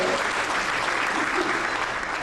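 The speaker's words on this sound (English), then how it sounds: "Oh, big round of applause." A big round of applause from an audience at a Georgia trade and tourism presentation, dense steady clapping throughout the short stretch with no break.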